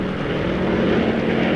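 Military aircraft in flight, a loud, steady propeller-engine drone that holds level and constant throughout, close and dominant with no voices.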